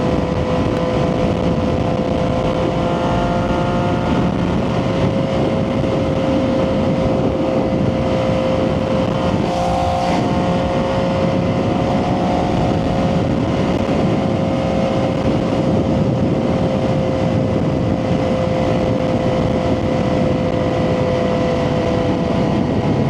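Triumph 675SS motorcycle fitted with a full IXIL exhaust, riding along bumpy concrete overpass lanes, giving a loud continuous engine drone with a steady tone and strong wind rush throughout.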